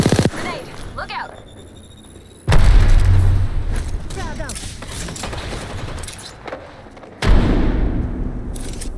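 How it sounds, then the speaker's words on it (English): Grenade explosions in the battle royale game Apex Legends on the Storm Point map: two loud, sudden booming blasts, the second about five seconds after the first, each decaying into a rumbling tail over quieter game ambience. "Grenade, look out."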